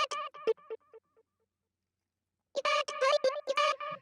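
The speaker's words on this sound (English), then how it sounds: "I added this H-delay stereo effect." Filtered vocal chops in FL Studio 21 run through an H-Delay stereo delay effect play as rhythmic clipped syllables that trail off into fading repeats, then return as a fresh cluster of chopped vocal hits.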